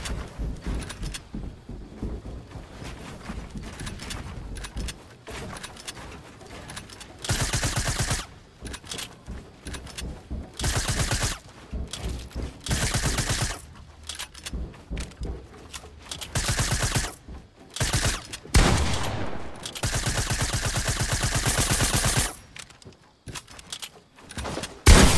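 Loud automatic gunfire in a shooter video game breaks out in repeated long bursts between quieter stretches, sharp and close, with occasional thuds and door-like clanks.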